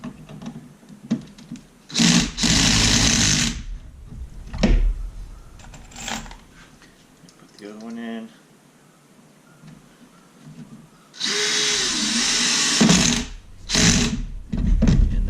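A drill driver set to a low torque setting drives screws into a support bracket for a floating bookshelf, heard as several short, loud whirring bursts separated by quiet pauses and light handling noises.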